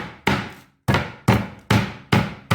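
Radish being smashed for a salad, six loud, close, evenly spaced thuds on a hard surface, each blow ringing briefly before the next.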